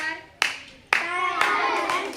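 Hands clap in a school classroom during a sense-organs science lesson, four sharp claps about half a second apart, close and clear.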